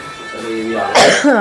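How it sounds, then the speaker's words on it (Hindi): A single harsh cough bursts out close to the listener, followed by a brief throaty vocal sound. "खांसी हो रही है, खांसी बहुत ज़्यादा हो रही है दोस्तों"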